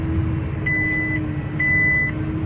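Two electronic alarm beeps from a planter monitor, each about half a second long, sound over a steady tractor engine drone, close and clear.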